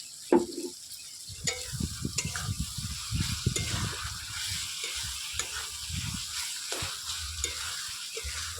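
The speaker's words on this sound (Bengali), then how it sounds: "এভাবে ভাজতে থাকবো এখন।" Ginger-garlic paste with spices being fried and stirred in a pan for a shol fish curry, a steady close sizzle with scraping stir strokes in an irregular rhythm, no talking.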